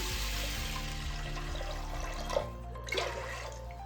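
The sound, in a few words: water poured into cooking pot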